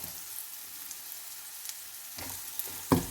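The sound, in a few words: bottle mushrooms stir-fried with garlic in a pan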